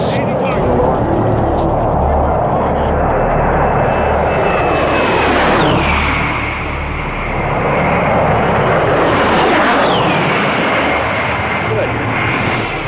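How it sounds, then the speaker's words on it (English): An A-10 Warthog military jet roars past at low altitude with a piercing engine whine, two loud flybys swelling and dopplering down over a constant rumble, with voices talking in the background. "Warthogs were a very interesting kind of plane because it's kind of eerie because they get very low and they're just got this whine to it"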